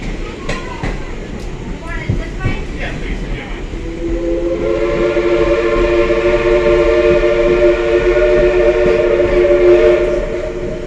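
The sustained whistle of steam locomotive Southern Railway No. 4501 sounds over the rumble and clatter of the moving train, steady and loud, with people talking nearby.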